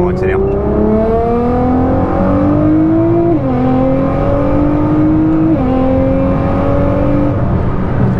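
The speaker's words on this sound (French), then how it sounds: "on se tait parce qu'on accélère." A Nissan GT-R accelerates hard, its loud engine note rising steadily from inside the car and dropping sharply at two quick gear changes before climbing again.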